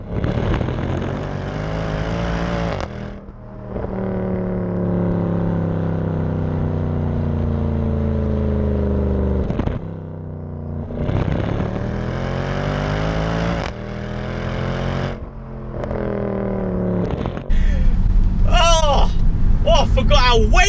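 Loud 2012 Mercedes C63 Coupe on its factory exhaust, tuned to 516 bhp, pulling hard in third gear in manual mode: a deep engine note climbs repeatedly through rising revs, broken by brief dips between pulls, with someone talking over it.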